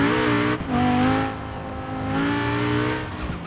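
Audi RS6 police car fitted with a V10 engine in Forza Horizon 4, droning and revving steadily up close with rising and falling pitch, no talking over it.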